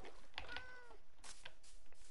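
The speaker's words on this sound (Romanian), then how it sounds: "Yo, e o pisică." A village cat in the game Minecraft gives a couple of short, faint meows over a quiet background, with no talk.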